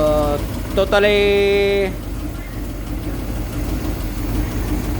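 A 1956 Ford F350 V8 engine running after 15 years in a junk yard, idling with a steady low rumble while a person talks briefly over it early on.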